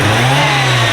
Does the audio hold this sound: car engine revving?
yes